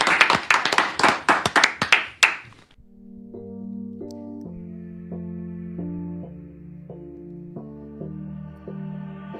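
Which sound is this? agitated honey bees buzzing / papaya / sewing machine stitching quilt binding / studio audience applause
studio audience applause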